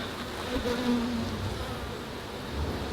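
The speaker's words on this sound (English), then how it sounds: "we have a couple bees coming out on this side" Steady, dense buzzing of many honeybees close by at an urban beehive, a continuous droning hum that swells slightly at moments.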